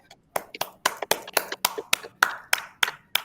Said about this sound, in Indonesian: tepuk tangan dulu untuk kelompok 4